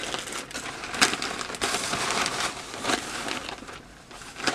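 A regular plastic bag crinkles as a wig is unpacked. The dense, close crackling and rustling runs on with brief louder crunches and no voices.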